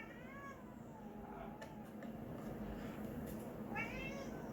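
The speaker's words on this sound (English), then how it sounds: "Friggin' cat." An indoor house cat gives two short, rising meows, one at the start and one near the end, fairly faint against a low background hum.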